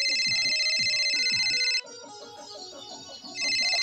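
A mobile phone ringtone plays loudly and close, a repeating bright electronic melody that drops away briefly and then resumes.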